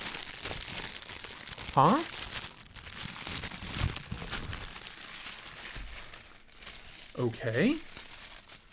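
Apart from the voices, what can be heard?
unwrapping knife from crinkling tissue paper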